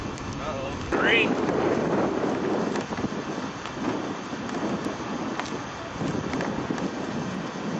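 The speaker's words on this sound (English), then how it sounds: "It's crazy windy out here" Broad, rumbling gusts of wind buffet the microphone throughout, with a brief rising whistle early on and faint voices mixed into the roar.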